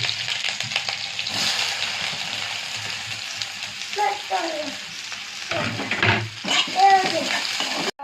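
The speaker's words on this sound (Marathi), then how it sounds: "मोहरी तडकली ना मग आपण हे साहित्य टाकू कांदा मिरची टमाटो कढीपत्ता" Onion, green chili, tomato and curry leaves fry in oil with spluttered mustard seeds for upma, a steady close sizzle with stirring clatter while someone talks over it.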